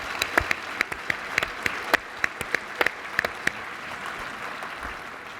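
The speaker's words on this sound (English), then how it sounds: "So we just give them a round of applause real quick." Small audience claps for electric co-op linemen at a fireside chat, a short round of scattered, distinct hand claps that thins out after a few seconds to quiet room tone.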